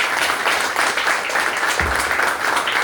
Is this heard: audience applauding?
yes